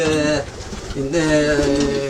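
Moroccan racing pigeons coo in soft, repeated throaty phrases close by, two bursts separated by a short pause, with faint background voices.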